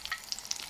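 Pakoras fry in hot oil with a close, steady sizzle and popping crackles over a very short moment, and no voices are heard.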